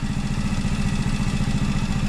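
Motorcycle engine idling nearby, a steady low throbbing chug with even rapid pulses, loud and constant with no voices over it.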